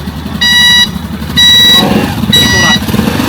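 A Rusi Chariot 175 motorcycle engine revs up in short bursts, loud and close, with a rough exhaust rasp between throttle blips.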